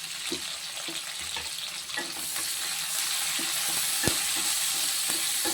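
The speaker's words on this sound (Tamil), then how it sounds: "நல்ல வெங்காயம் வந்து ஒரு பொன்னிறமாக வெந்து வரணும்." Onions and curry leaves fry in a pan for a Tamil prawn curry, giving a steady close sizzle with scattered stirring scrapes and one sharp clack near the end.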